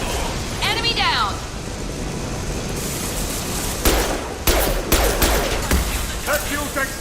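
Gunfire against enemies and a loose fuel tank in Mass Effect 2, a rumbling battle backdrop broken by several sharp bursts of shots later on, with a voice calling out over the fighting.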